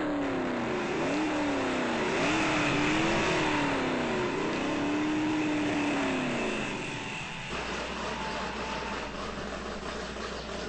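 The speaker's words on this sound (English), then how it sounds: "revs the car up." A toy or ride-on classic car's sound module plays a car engine revving, rising and falling through several loud rev cycles before settling into a steady idle drone.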